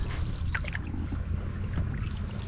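A small fishing boat glides across a large lake lined with water lilies, a steady low rumble with light water splashes and trickles close by, continuous throughout.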